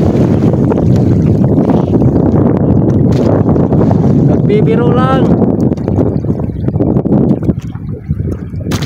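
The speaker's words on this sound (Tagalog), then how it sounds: "Ayaw talaga magpaawat tong hangin na to, oh." Strong wind roars and batters the microphone nonstop, with a person speaking briefly underneath the gusts.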